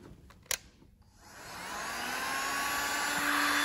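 A Parkside heat gun with its nozzle fitted starts after a sharp click and spins up into a steady, loud blowing whoosh with a faint motor whine that holds to the end.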